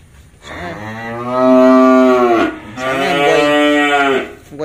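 Cattle on a farm moo while being fed grass: two long, loud, close bellowing calls, one after the other, with no talking.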